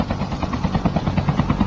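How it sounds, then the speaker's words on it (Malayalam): A helicopter in Call of Duty Mobile approaches with a fast, even rotor thump pulsing continuously through the short moment. "ഹെലികോപ്റ്റർ വരുന്നു"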